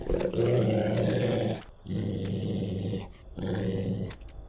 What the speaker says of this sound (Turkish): Hırlamaya başladı yine devam etti hırlamaya.